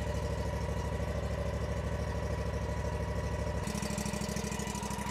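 Yakta YXR710 zero-turn mower engine idling at low throttle, a steady, close, pulsing mechanical drone that shifts slightly in tone partway through, with no talking.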